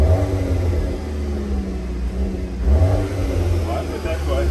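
Volkswagen Golf 8R engine revving, a deep rumbling growl that swells and eases under ongoing conversation between people nearby.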